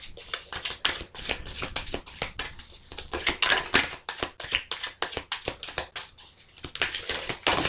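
A deck of fortune-telling cards is shuffled by hand, a rapid run of crisp riffling flicks and slaps that goes on steadily and close up, with no voices over it.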